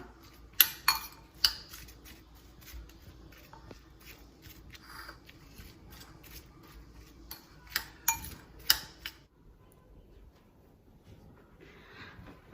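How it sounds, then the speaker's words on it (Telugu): Salad tossed with pepper in a bowl, giving scattered clicks and light clinks of a utensil against the bowl, some clustered in quick bursts, fairly close and quiet with a lull near the end. "నేను కొంచెం పెప్పర్ యాడ్ చేస్తున్నా. మిక్స్ చేసేయాలి ఇట్లా."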